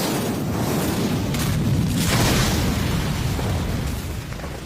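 A rocket explosion from the film Yakuza Weapon booms loudly, then trails into a long, dense rumble of debris and blast noise that slowly fades.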